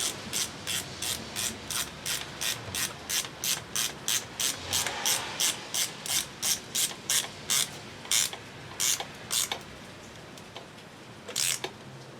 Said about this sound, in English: Now it's just a matter of putting this bolt right here on to hold that to the fuel rail.